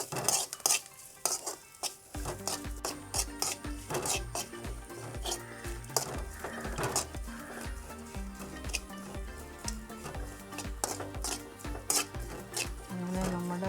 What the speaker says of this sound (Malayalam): അങ്ങനെ നമ്മുടെ വറവൽ റെഡി ആയിട്ടുണ്ട്. ഒരു ഗോൾഡൻ ബ്രൗൺ ആവുന്നുണ്ട്.